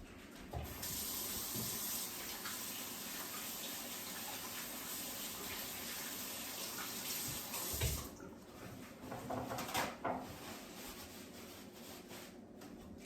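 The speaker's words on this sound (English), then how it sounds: "Now I'm just going to go over to the sink and wash my hands quick." A kitchen tap runs steadily into the sink as hands are washed while baking chocolate chip cookies, a close even hiss of water that breaks into splashy bursts near the end.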